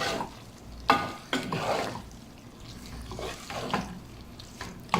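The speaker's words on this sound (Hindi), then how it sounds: "चंद मिनट के लिए इसको भुनाई कर लें, टमाटर हमारे गल जाए।" Chopped tomatoes with finely cut green chillies frying in a pan, a soft sizzle under scraping spatula strokes, with a few sharper knocks against the pan, close and moderately loud.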